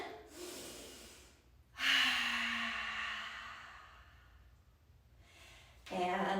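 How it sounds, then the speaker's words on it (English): A slow, deep breath drawn in during a children's yoga story session, audible as a long airy inhale that fades out, followed by a shorter breath, close and fairly loud, with no talking over it. "Let's take a deep breath in."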